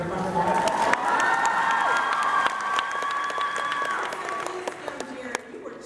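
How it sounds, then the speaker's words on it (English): Crowd at a Comic Con panel applauding and cheering, with loud sustained clapping and whoops throughout, while a voice carries on over the noise. "that's a clap break"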